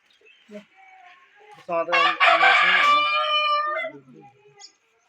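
A rooster crows once, loud and close, a long strained call in the middle, with soft clucking from other fowl before and after.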